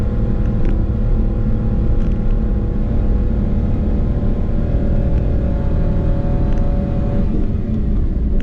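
A car engine labours steadily uphill in low gear on a rough forest road at night, a loud continuous droning rumble heard from inside the cab, with no talking.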